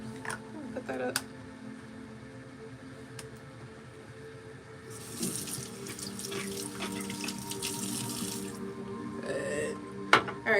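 Tap water running into a bathroom sink for rinsing off a face, a steady close splashing stream with a few sharp knocks and clinks near the end, no talking over it.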